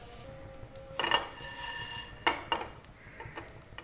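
Metal clinks and scrapes from whole spices and red chillies being dry roasted in a pan, a few sharp clattering knocks over a quiet hum, close by and without talk.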